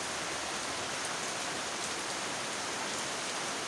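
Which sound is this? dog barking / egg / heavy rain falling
heavy rain falling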